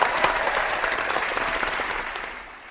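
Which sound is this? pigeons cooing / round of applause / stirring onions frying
round of applause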